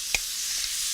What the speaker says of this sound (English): That's the sound of cooking short rib.